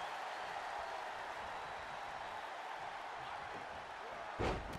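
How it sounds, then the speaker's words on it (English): Dense, roaring crowd noise fills a puppet wrestling rumble, a steady wall of cheering and shouting from a packed arena with a sharp burst near the end. "The sound of this crowd is deafening, and he's asking for more."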